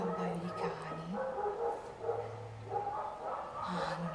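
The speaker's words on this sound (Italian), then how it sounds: "sentirete sicuramente un abbaio di cani" Dogs bark and yip faintly in the background behind quiet indoor sounds, several short barks and whines spread across a few seconds.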